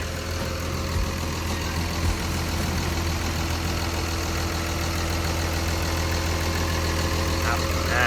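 A 2013 Komatsu WA320-6 wheel loader's turbo diesel engine, a Komatsu 6D107, idling steadily with a low, even rumble close by, left running throughout with some faint background sounds.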